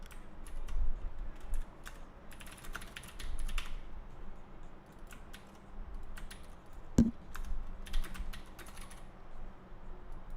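Typing on a computer keyboard, a steady run of close, fast key clicks filling the whole stretch with a sharper clack near the middle and no talk.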